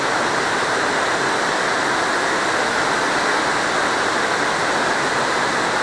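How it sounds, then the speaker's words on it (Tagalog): Heavy rain pours at a tennis court, a loud, dense, unbroken rush of water with no pauses. "Lakas ng ulan guys. Sobra."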